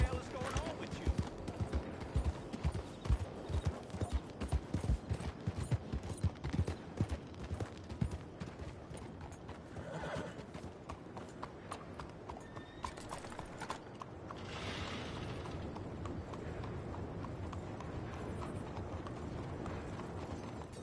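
Horse hooves clip-clop steadily in Red Dead Redemption 2, close and rhythmic, with a whinny and occasional voices mixed in before the hoofbeats settle under a steadier background noise.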